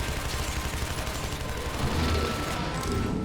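Rapid, loud gunfire in the Shadow Warrior shooter game, a dense unbroken burst of shots hammering continuously up close, with a heavier thump partway through and no voices.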